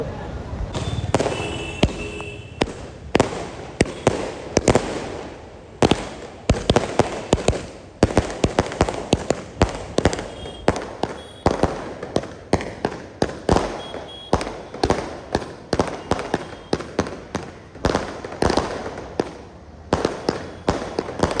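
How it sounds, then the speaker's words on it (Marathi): Strings of firecrackers crackle and pop in rapid, dense bursts behind a procession trolley near the Lalbaug signal, loud and continuous throughout with crowd noise underneath. "ते फटाके लावलेत. ट्रॉली मागे."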